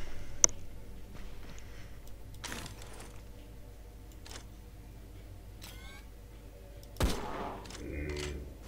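Gunshots in the hunting video game Dino Hunter: Deadly Shores, with a sharp shot near the start and a louder blast later, separated by clicks and soft mechanical game sounds.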